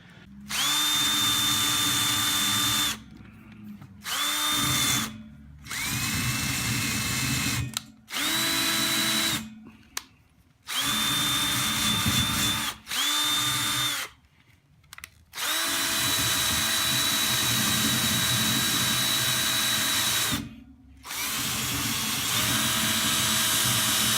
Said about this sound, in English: I'll just clean that up a little bit more, and I'll just polish around the end